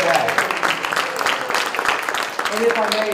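Audience applause for a benefit auction panel at a conference, a steady wash of clapping filling the whole stretch, with some voices mixed in underneath.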